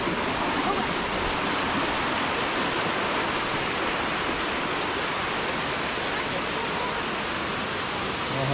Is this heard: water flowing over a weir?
yes